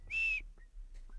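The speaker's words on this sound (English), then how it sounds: "I'm going to start doing whistling the Jeopardy theme like Harry does." A person whistles a short tune in brief high clear notes, a long held note followed by two quick faint chirps, alone in a quiet room.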